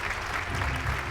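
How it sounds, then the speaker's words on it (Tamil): Audience at a television awards show applauding, a dense steady wash of clapping that holds at an even level throughout the short stretch. "இன்னும் ஒரு பெரிய பெரிய பெரிய கைத்தட்டல் கொடுக்கலாம்."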